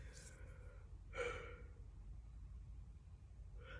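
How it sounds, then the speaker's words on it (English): A drawn-out yawn with a breathy exhale rises near 1.2 seconds in a quiet room, with a fainter gasp at the start and another at the end over a low background hum. "sorry about the yawning."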